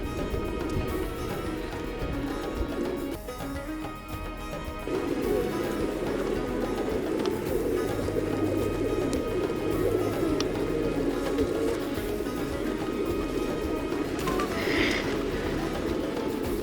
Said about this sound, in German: Beim Taubentempel kommen gleich die Tauben angeflogen.